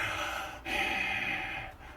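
A voice imitates heavy breathing, a drawn-out breathy inhale and exhale lasting about a second, close and fairly quiet.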